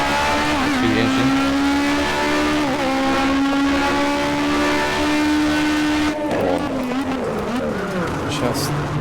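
Race car engine in rFactor screams at high revs with rising gear pitches and quick shifts, loud and continuous, then briefly drops and roughens near the end.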